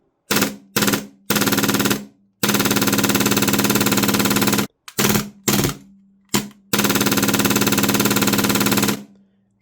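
An Action Army AAP-01 airsoft gun fitted with an HPA Infinite kit fires full auto in loud, steady bursts, a few short ones then long unbroken strings, with no slowing.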